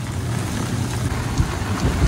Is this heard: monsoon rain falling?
yes